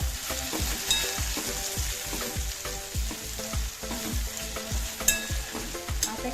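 Coriander-cumin powder frying in a pan for banana-flower bhaji, stirred with a spoon in steady scraping strokes over a continuous close sizzle, with a few sharper clinks of utensil on metal.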